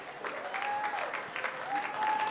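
Comedy club audience applauding a stand-up comic, a brief burst of scattered clapping mixed with crowd noise and voices.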